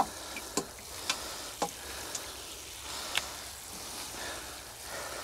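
Water from a watering-can rose pours onto a 30-litre potato pot of compost and straw with a soft, steady hiss, punctuated by a handful of faint ticks and drips.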